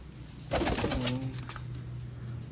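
Pigeons in a home pigeon loft give a short close cooing call over a steady low background hum.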